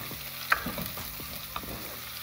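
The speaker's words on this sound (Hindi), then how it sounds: "प्याज थोड़ा हो गया तो ये मैं लहसुन अदरक का पेस्ट डाल दूंगी।" Garlic-ginger paste sizzles and fries with browned onions in a pan, a soft steady crackle with a couple of sharper pops and light stirring scrapes, heard alone.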